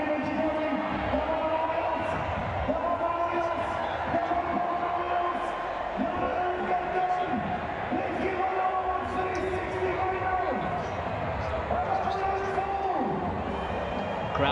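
A crowd at a cricket match, a constant loud roar with scattered cheering from many people filling the whole stretch, with a commentator's voice running over it.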